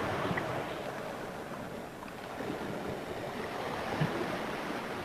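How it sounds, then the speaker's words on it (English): A toilet flushing somewhere in a house, heard from a basement near a large pipe: a steady rushing water noise, moderately loud and continuous for several seconds, with no speech. "is that the toilet flushing that I just heard?"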